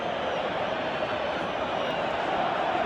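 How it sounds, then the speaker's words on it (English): A football stadium crowd keeps up a dense, steady roar at a Schalke versus Real Madrid match, urging a player to shoot, with a continuous wash of massed voices and no distinct pauses. "Crowd calling for him to shoot"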